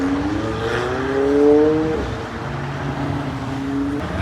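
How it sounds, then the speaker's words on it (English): A Lamborghini drives past on a busy road, its engine note rising to a loud peak and sweeping down as it passes close by, with general traffic noise around it. "That car looks familiar, huh, folks? The Lamborghini."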